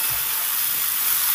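Tomatoes with salt cook in a pan for a kundri curry, giving a constant, fairly loud hissing sizzle with a steamy quality, steady and unbroken, with no voices.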